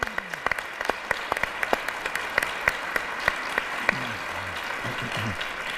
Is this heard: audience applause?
yes